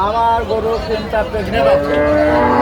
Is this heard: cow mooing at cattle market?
yes